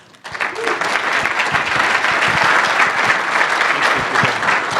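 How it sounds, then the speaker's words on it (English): An audience at a local JavaScript meetup gives a round of applause for the event sponsors, a loud, continuous, dense clapping that starts abruptly and holds steady throughout. "Round of applause for them."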